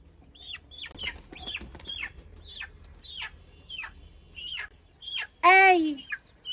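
A Sonali chicken clucks repeatedly up close, giving short rising calls in a steady series. It ends in a louder, drawn-out squawk, and a few faint background sounds are heard between the calls.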